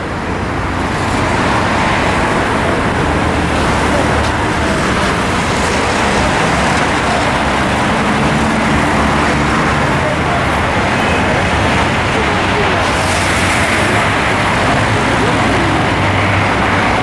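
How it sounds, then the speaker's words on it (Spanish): Morning road traffic pours through the Javier Prado cloverleaf interchange, heard from a bridge above. A dense, continuous roar of passing cars, buses and trucks stays loud and unbroken throughout. "ya se puede apreciar parte de lo que es el tráfico a esta hora de la mañana."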